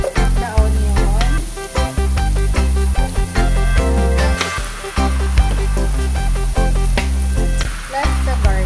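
Onion for ginisang munggo hits a hot pan and fries, a loud continuous sizzle with clattering stirring, close up and without talk.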